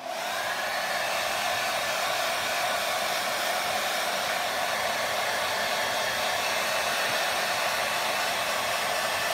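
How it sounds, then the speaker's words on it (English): A blow dryer runs steadily at close range while drying milk paint on furniture, giving an unbroken, loud whooshing hiss for the whole stretch with no voices. "I'm hitting everything with my blow dryer."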